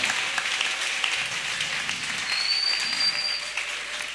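Church congregation at a Sunday service applauding together, a steady wash of clapping that fills the space evenly, fairly distant and without talk.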